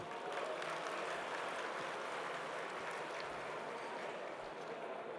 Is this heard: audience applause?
yes